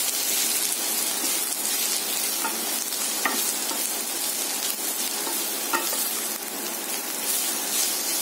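Onions and green chillies frying in oil in a pan, a continuous busy sizzle and crackle with occasional stirring scrapes, close and steady throughout.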